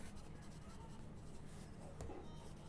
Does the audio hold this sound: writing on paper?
yes